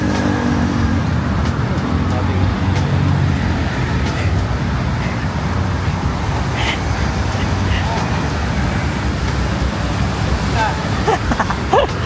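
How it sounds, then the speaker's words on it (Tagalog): Cars on a highway near the Cultural Center of the Philippines in Manila make a steady, loud roar of passing traffic, with a person talking over it throughout. "Medyo maingay dito kasi andito yung mga kotse sa highway."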